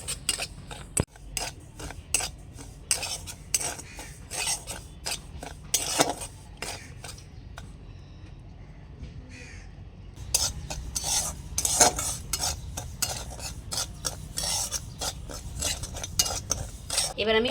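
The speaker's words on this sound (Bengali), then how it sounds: "সুজিটাকে ভালো করে ভেজে নেব।" Dry semolina (suji) being roasted in a kadai with repeated scraping and stirring strokes of a spoon against the pan, steady clatter with a short quieter pause midway, no voices.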